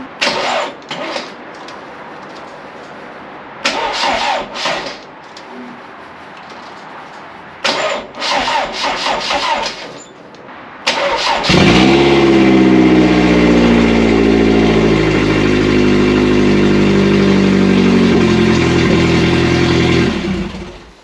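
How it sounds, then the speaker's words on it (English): An MG TF car engine is cranked over in short bursts several times, then catches and starts, settling into a loud, steady running idle close by. "So I think now is a good time just to see if it will run"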